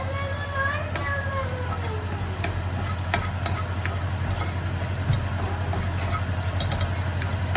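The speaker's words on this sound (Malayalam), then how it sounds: "ഇപ്പം ഇതിൻ്റെ പച്ചമണം മാറുന്ന വരെ നന്നായിട്ട് ഇളക്കണം" Green peas curry being stirred in a pan makes a continuous sizzling, scraping sound, close and steady, with a low hum underneath.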